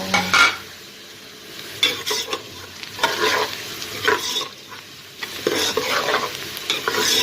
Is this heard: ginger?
yes